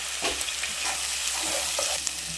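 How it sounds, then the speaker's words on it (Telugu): Chopped onions fry in a pan for a mutton curry, with ginger-garlic paste, salt and turmeric added. A steady close sizzle runs throughout, broken by a few soft scraping stir strokes. "ఇక్కడ ఆనియన్స్ ఫ్రై అయినాయి కదా"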